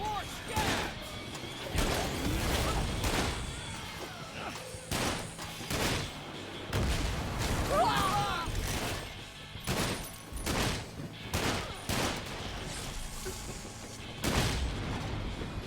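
Repeated bursts of turret gunfire and crashing impacts in the video game Sunset Overdrive, loud and frequent across the span, with game sounds layered between volleys.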